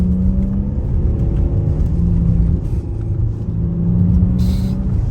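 A BMW engine roars loudly and continuously nearby as the car speeds past, a deep rumbling drone with a brief dip before it surges again.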